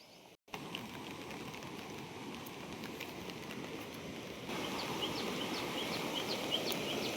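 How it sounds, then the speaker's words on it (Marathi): Heavy rain pours steadily over flooded farm fields of soybean near a swollen village stream, a dense continuous hiss that grows louder partway through, with no talking. "लय पाऊस पडत आहे शेतकरी मित्रांनो"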